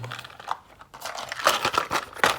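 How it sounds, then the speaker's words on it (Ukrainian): Close crinkling and tearing of plastic packets of Marvel LEGO minifigures, several sharp rustling bursts in quick succession. "Зараз ми будемо відкривати 5 пакетиків."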